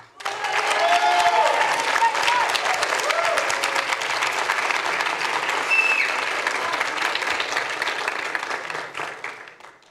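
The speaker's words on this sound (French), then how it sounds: "s'il vous plaît, applaudissez bien fort Grace Ngiele." Sustained audience applause fills a lycée eloquence contest hall in Montreuil, dense steady clapping from a crowd that holds for several seconds before tapering off at the end.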